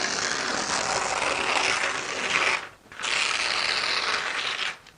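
Newspaper torn by hand into a strip about an inch wide for seed tape, a rough ripping rasp in two long passes with a brief pause between them, close and fairly clear.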